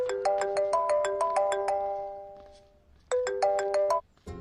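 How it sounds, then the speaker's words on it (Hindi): A phone ringtone plays a bright, repeating electronic chime melody, loud and close, pausing briefly before the tune starts again, with no talking over it. "आपको किसी का फोन आ रहा है"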